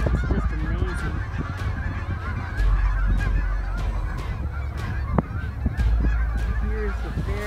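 A flock of geese honks continuously along the Yellowstone River, a dense chorus of overlapping calls with wind or water noise underneath and a faint voice.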